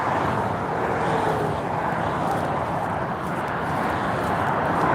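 Road traffic near a roadside spot in Thornton, Colorado, a loud continuous broadband roar of passing vehicles that stays steady and close throughout, with no clear speech.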